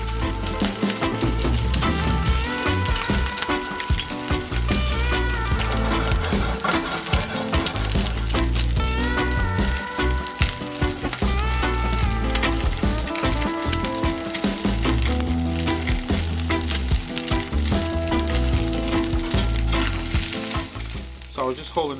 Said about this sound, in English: So I was just holding down the fish just to get a nice sear, nice crust on that skin.